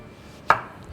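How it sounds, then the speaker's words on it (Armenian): A kitchen knife makes one sharp, close chop through unripe wild blackberries, a single crisp knock in an otherwise quiet moment. "Ես մինչ այդ կտրատեմ խակ մոշը,"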